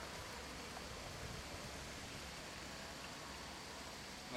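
A lake fountain sprays water in a steady, broad hiss of falling droplets, constant and evenly loud without pause, heard at a moderate distance with no voices over it.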